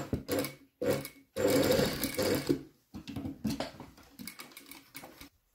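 A sewing machine stitching a waistband onto a skirt, sewing all the way around at 1 cm, in short rapid bursts of mechanical whirring separated by brief pauses, close and fairly quiet.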